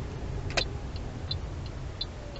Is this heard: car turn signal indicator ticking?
yes